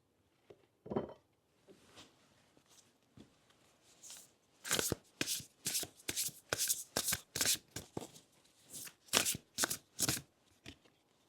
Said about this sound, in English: I'm going to pick a few cards from the intuitive whispers and see what comes up.